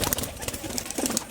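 Pigeons at a backyard loft coo softly amid a busy wash of ambient noise, their low murmuring calls faint and close over a constant background hiss.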